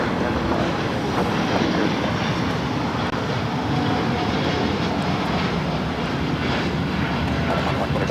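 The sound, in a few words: Star Alliance Boeing 787 Dreamliner rolling down the runway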